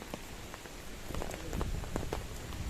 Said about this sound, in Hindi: यहाँ पर बहुत बारिश हो रहा है अभी